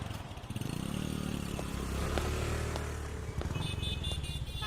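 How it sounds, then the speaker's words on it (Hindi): A motorcycle is brought out, its engine running close and loud with a low rumbling idle, rising revs and a few clattering knocks, with no one speaking. "मैं राज की बाइक ले आता हूँ।"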